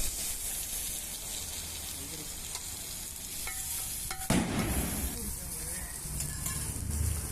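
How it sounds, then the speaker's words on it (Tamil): Curry leaves and chopped tomato sautéing in a pan for an egg and nookkal stir-fry, a steady close sizzle with stirring scrapes throughout and a louder clatter midway. "ஒரு நாலு கருவேப்பிலை கொஞ்சம் தக்காளி அதை போட்டு நல்லா வதக்கலாம்"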